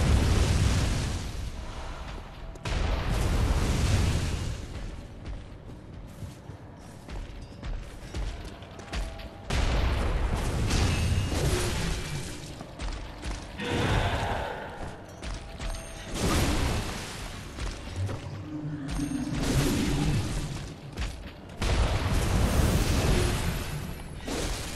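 Repeated heavy booms and explosive blasts from church cannons in the video game Bloodborne, loud and dense bursts recurring over a rumbling backdrop.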